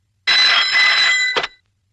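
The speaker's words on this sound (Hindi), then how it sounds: "जरा शिर्के को फोन लगा" A telephone rings at a police station in a Hindi action film: one shrill electric ring lasting about a second, then a short clunk, loud and close.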